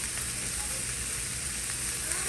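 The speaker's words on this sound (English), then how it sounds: "I'm trying to cook the sirloin a little bit longer as well" Sirloin steak sizzling steadily in a frying pan, a constant, even crackle of fat with no talk over it.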